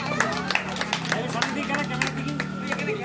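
Hand clapping for the winner of a rice-and-lentil sorting game at an Eid celebration, a loose burst of claps from a small group, steady over chatter and crowd murmur.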